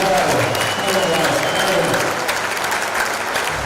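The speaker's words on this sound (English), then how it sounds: "Now let's all give a big applause for every sportswoman that is here in Sarajevo 2025." Crowd applause fills an arena at the women's wheelchair basketball European Championship final in Sarajevo, Netherlands against Great Britain: loud, dense, steady clapping throughout, with a faint voice underneath.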